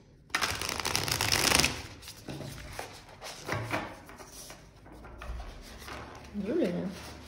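Tarot cards are shuffled close up, heard as a brisk riffling burst followed by softer repeated shuffling and card handling, with someone speaking over it.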